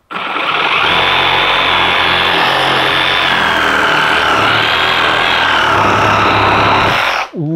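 A Milwaukee 18V reciprocating saw cuts through material during demolition, a loud, continuous buzzing roar that holds steady for about seven seconds and then stops abruptly.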